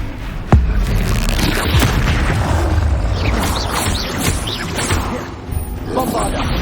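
An explosive Confringo spell blast in Hogwarts Legacy lands with a sharp, loud burst near the start, then rolls into sustained rumbling debris and crashing mixed with clattering game effects, a voice speaking over the noise.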